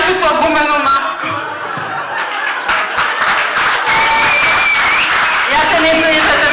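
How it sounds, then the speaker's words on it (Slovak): An audience at a village carnival applauds a Dracula costume, clapping and crowd noise building from the middle onward while people talk over it. "zaslúžený potlesk pre Draculu"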